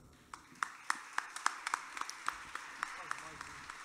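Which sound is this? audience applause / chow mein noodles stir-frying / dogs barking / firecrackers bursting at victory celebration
audience applause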